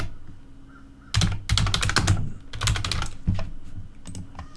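Someone types on a computer keyboard with quick, close clicking bursts broken by short pauses over a quiet room background.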